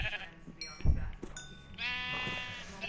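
Bleating sheep with pink wool in Minecraft, several short game bleats close by over a few seconds, with a voice talking around them.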